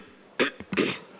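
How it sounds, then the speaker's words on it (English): A person at a conference session coughs twice, two short harsh bursts in close succession, loud and close against a quiet room. "sorry, I have a cough."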